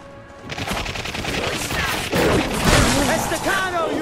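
Rapid automatic gunfire and shooting bursts in the video game The Darkness 2, set in a pool hall, building loud and continuous with shouting voices over the top.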